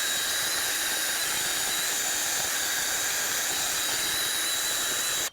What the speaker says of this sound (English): take a drill with a cleaning wheel and clean off our hub surface the best we can